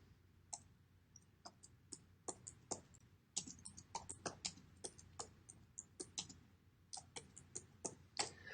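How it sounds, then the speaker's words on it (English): Fingers tap keys on a computer keyboard in quick, irregular clicks, some singly and some in short bursts, faint and close, with no talking over them. "I'm going to type that in right here too."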